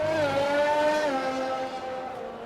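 A race car screams down a circuit straight, its high engine whine holding steady and then dropping slightly in pitch as it passes close by, loud and alone.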